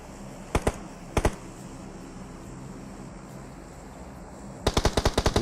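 Gunfire in the PUBG Mobile battle royale game during an esports match: two short double bursts early, then a rapid string of loud, close shots near the end over a steady background hum.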